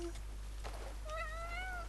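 A cat meows in the video game Crimson Desert, one drawn-out meow with rising and falling pitch near the end, clear over a low steady in-game ambience.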